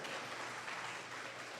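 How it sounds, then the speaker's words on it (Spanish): An audience applauds at the close of a diploma course presentation, with soft, diffuse clapping at a low, steady level and no talk over it. "un aplauso para ustedes."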